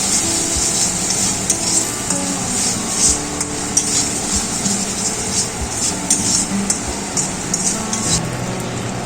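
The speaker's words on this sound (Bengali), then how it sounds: "তারপর নেড়ে চেড়ে নিচ্ছি।" A spice paste frying in a pan with sugar added is stirred continuously, giving a steady sizzle overlaid with repeated scraping and tapping strokes of the spoon, close and moderately loud with no talking.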